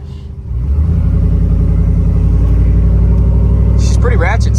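A straight-piped, cammed truck revs with a loud, choppy exhaust that climbs from a low idle into a sustained heavy rumble, close to the microphone, with a short brighter burst near the end.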